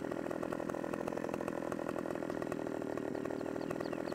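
A chainsaw in Farming Simulator 17 cuts through a tree, its engine whining steadily and loudly for the full stretch with a dense, buzzing rattle and no talk over it.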